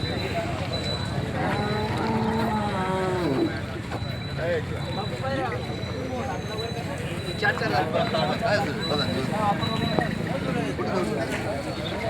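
Bulls moo and low at a busy cattle market, with people talking throughout and occasional birds and hoof sounds in the background.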